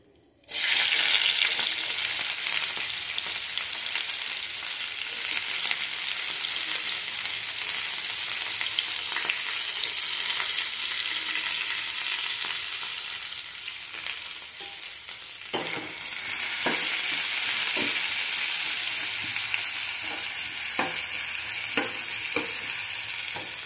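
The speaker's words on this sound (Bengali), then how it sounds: "এপাশে তেজপাতা, গরম মশলা সব দিয়ে দেবো, পেঁয়াজ দিয়ে দেবো" Onions frying in hot oil with bay leaf and garam masala for an onion and meat curry, a loud continuous close sizzle with scattered utensil clicks and stirring, brightening after a short break partway through.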